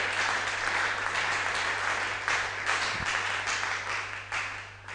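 A church congregation applauds steadily and loudly, dense clapping spread across the room for the whole stretch with a faint low hum underneath.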